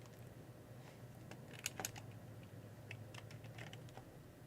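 Quiet keystrokes on a computer keyboard, a scattering of soft clicks with a few louder taps near the middle, over a steady low background hum.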